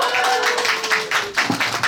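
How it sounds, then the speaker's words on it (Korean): An audience at a Korean book talk claps as authors are welcomed onstage, a dense, steady burst of applause that fills the whole moment at close range, with a faint voice or tone running beneath. "박수 주세요!"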